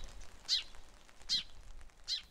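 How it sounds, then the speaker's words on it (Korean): Birds calling in the quiet dawn air of a rural village, three short bright chirps spaced evenly about a second apart, moderately near over a faint low background rumble. "새벽 공기를 가르는 새들의 지저귀이 평화롭습니다."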